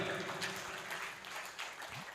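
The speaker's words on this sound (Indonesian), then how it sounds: "Tepuk tangan buat beliau" Audience applause at a legal seminar as speaker Robert Limbong, a high court judge, is introduced; a steady, moderately distant wash of clapping fills the short stretch without a break.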